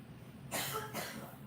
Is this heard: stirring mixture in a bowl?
no